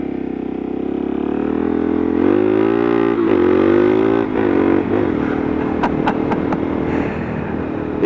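A Suzuki DRZ 400SM single-cylinder engine drones steadily while riding, its pitch rising and dipping with throttle changes, loud and close with wind rush and a few clicks near the end.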